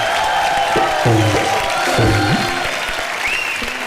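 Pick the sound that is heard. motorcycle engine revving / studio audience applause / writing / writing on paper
studio audience applause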